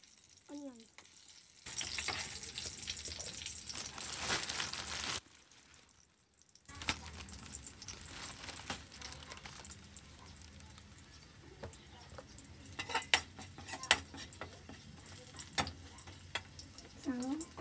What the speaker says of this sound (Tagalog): naginis ako ng garlic at saka onion